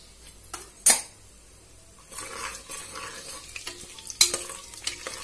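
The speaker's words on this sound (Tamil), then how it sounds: "இது நல்லா கோல்டன் ப்ரௌன் ஆகுற வரைக்கும் பொரியட்டும்." Fennel seeds, cinnamon and star anise fry in hot oil with a soft, steady sizzle while a spoon stirs and scrapes against the pan in a few sharp clinks, all close by.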